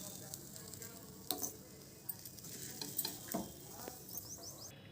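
Onions frying and being stirred in a pan while cooking fish gravy, a soft steady sizzle with scraping stir strokes close by, no talk.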